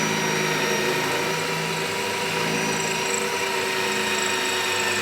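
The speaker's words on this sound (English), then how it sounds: "So get these things marked and get these holes drilled." Holes being drilled for bolts to mount train horns on a Peterbilt truck: a loud, continuous whirring drill whine that holds steady for the whole stretch, with no voices.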